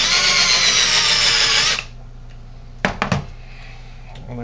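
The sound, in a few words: power drill roll crimping a shotgun shell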